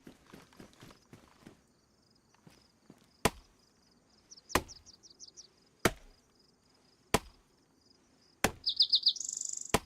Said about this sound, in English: Well, those birds weren't very happy.